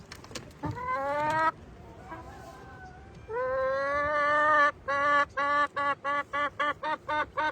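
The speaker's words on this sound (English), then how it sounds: "This is how smart these chickens are." Chickens in a backyard garden call out close by, first with a few drawn-out squawks, then with a quick run of short, evenly spaced clucks.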